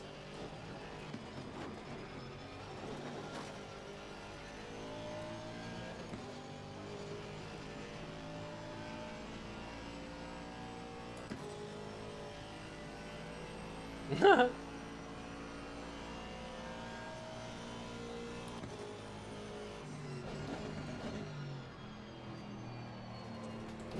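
A race car engine at Spa in the Assetto Corsa Competizione game drones steadily with shifting harmonic tones over a low hum, punctuated by a brief sharp transient midway.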